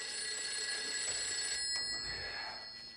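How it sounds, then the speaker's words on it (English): An old telephone bell rings steadily at night in a funeral home, a bright, continuous trill that fades slightly toward the end, with no one speaking. "but the phone rings."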